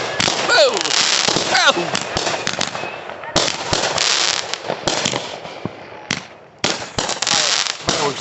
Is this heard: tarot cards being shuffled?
no